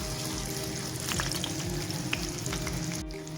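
Chapli kababs sizzle and crackle steadily in a frying pan, a continuous close-up fry with small pops, a faint low hum underneath and a brief click near the end.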